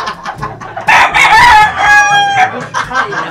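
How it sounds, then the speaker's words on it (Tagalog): Fighting cocks, a white one among them, crow in rising drawn-out calls and cluck close by, several birds overlapping over about three seconds with faint background chatter. "Yan yung mga manok."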